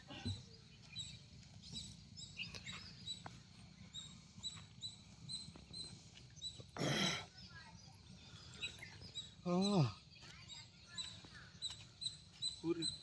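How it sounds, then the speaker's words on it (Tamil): A myna bird in a Tamil village gives a couple of short, sharp chirping calls amid quiet outdoor background sound, with people talking nearby. "அது அதான் கோழி இல்லை, மைனா."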